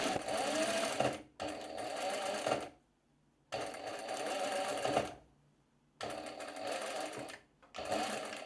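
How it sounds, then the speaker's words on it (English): A sewing machine runs in three close bursts of rapid stitching separated by short quiet gaps, sewing a drawstring skirt, with no voices. "I have my pin, and that's where I will start sewing"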